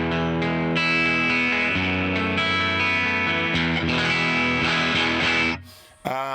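A Fender Jazzmaster's bridge pickup through a Princeton Reverb amp model in a Genome amp plugin, playing sustained, slightly distorted chords with shimmering effects that ring out, then cut off as a voice briefly starts to speak.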